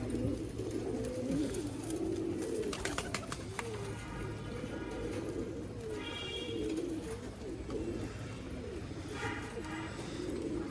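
Soft, low pigeon coos repeat in a gentle rolling rhythm amid a busy background, with a few brief higher chirps and clicks between them.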